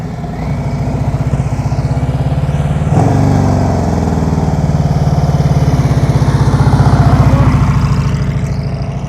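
Motorcycle engine held at low throttle during slow-speed riding practice, a steady low rumbling idle-like drone that runs close and continuous with slight rises and dips in revs.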